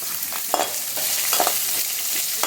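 Shallots sizzle steadily in a pan for drumstick-leaf poriyal, with a constant frying hiss broken by several scraping stirs of a spatula at a close, even volume.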